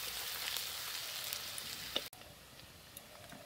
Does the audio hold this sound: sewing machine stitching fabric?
no